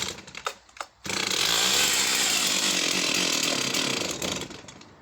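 A vintage Stihl 038AV professional chainsaw, set on full choke as the factory suggests, gives a few short pulls and sputters, then catches and roars at steady high revs close by for several seconds before easing slightly.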